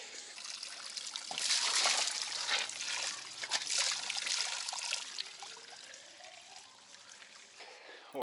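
Water poured out of a bottle refilled at a gas station, a soft trickling stream that swells and fades over several seconds, fairly quiet and close with no talk over it.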